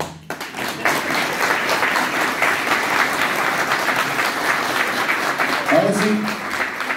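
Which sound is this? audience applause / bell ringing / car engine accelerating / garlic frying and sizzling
audience applause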